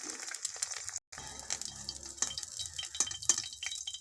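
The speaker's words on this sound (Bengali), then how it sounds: "কড়াই সরষের তেল গরম হয়ে গেছে ডিমটা পোচ করে নেবো" Soft, continuous sizzling and crackling of an egg frying in hot mustard oil in a wok, close by, with a few faint clinks and a brief dropout.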